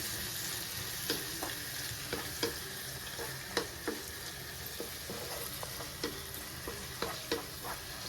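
Curry leaves frying in hot oil with tomatoes and onions in a pan for a cauliflower tomato curry, giving a steady close sizzle punctuated by regular spoon clicks and scrapes from stirring.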